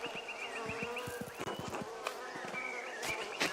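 Bees buzz around beehives on a rural family farm in the medieval game Pentiment, kept for honey and wax. A steady insect drone carries throughout, with soft rhythmic thumps beneath and no voices.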